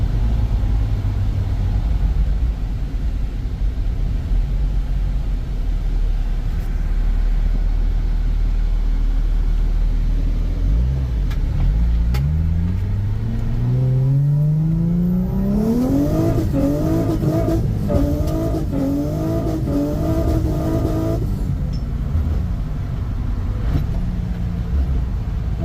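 A Nissan G35 drift car engine idles low, then revs up in a rising, climbing sweep, holds high revs with a rasping harmonic note, and drops back toward idle, loud and close.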